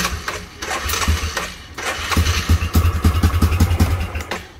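A Yamaha Grizzly 660 4x4 ATV with an idle-stalling fault cranks with a rapid rhythmic chugging, then catches and runs in a loud, close, pulsing putter.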